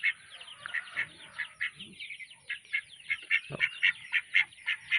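Egg-laying ducks quack in a rapid, repeated series of nasal calls, several birds close by, with a brief low thump partway through and no talk.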